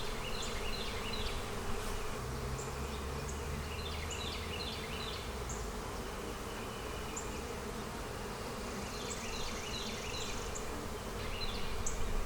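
A dense, steady hum of many honey bees buzzing from an opened hive box fills the air continuously, with occasional higher chirps drifting over the drone.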